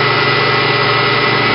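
A milling machine takes a full-depth finishing pass on an HK600GT gasser conversion part, turning at 4,500 RPM with a 15-inch-per-minute feed, giving a steady, even machining drone with a low hum and no break.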